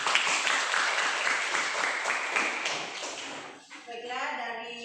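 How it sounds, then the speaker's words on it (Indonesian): A classroom of students applauds, a dense burst of clapping that carries for several seconds and then fades out as a voice speaks over the tail end. "Ibu berikan aplaus satu kali lagi"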